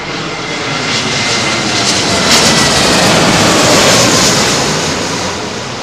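An Emirates airliner lands on runway 27L at London Heathrow, a loud, broad engine roar that swells and holds steadily for several seconds as the jet passes close by.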